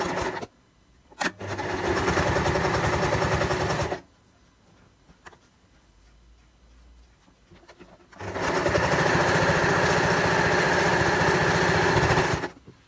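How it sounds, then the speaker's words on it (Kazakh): A sewing machine stitches quilt edging in two long, loud, steady whirring runs separated by a quiet pause, its rapid needle rhythm close and unaccompanied by speech. "На ширине лапки 5-7 мм қашықтықта тігіп шығамыз"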